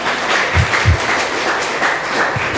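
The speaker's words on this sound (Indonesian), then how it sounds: "kasih tepuk tangan" Applause from a church congregation during a Pentecost Sunday sermon, a steady mid-level patter of many hands with a few heavier low thumps, no speech over it.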